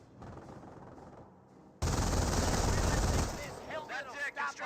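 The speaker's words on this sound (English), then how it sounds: "MG42 firing away" An MG42 machine gun rattles in sustained loud bursts in Company of Heroes, a dense stream of fire lasting over a second, then trailing off as a voice comes in.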